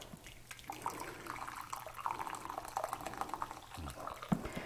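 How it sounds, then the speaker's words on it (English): Hot water pours into a small crock pot, a steady close splashing and trickling rush that runs for several seconds without talk. "I have just a little crock pot. And what I'm going to do is fill this up with really hot water."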